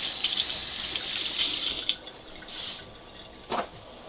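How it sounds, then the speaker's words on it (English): A kitchen tap runs steadily into a sink for about two seconds while hands are washed, then stops, leaving a brief splash and a couple of faint drips. "Gotta wash the hands."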